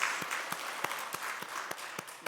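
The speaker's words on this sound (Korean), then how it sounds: "다시 한번 우리 격려의 박수 해주시면 감사하겠습니다." A small church congregation claps at a New Year's Sunday worship service after the choir's hymn, a steady patter of hands with a few sharper individual claps standing out, moderately loud and close, with no talking.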